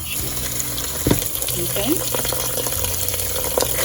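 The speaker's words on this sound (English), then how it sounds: "So right now I'm gonna wash my rice." Two cups of rice being washed under running tap water, with a continuous splashing gush and a few clinks, close by, while a person briefly speaks.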